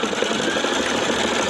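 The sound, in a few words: sewing machine stitching out a diamond embroidery design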